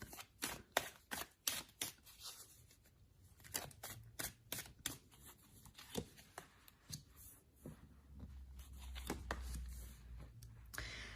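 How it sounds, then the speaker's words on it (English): Soft, close tarot card shuffling with repeated light flicks and taps, fairly quiet, ending with a low rumbling hum underneath. "let's give the cards a good shuffle"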